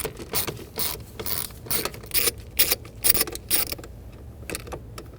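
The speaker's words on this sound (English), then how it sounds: "loosen up that bottom one with a 7mm socket again" A ratchet with a 7mm socket loosens a bolt during a combination switch job on a 2000-2007 Ford Taurus, giving bursts of quick clicking strokes up close, then faint metallic taps near the end.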